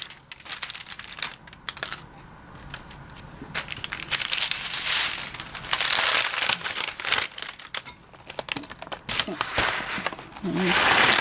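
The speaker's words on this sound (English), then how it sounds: "just gently fold over the parchment paper" Parchment paper crinkling and crackling as dried onion pieces are worked loose and come off it, close and continuous with brief pauses, under intermittent talking.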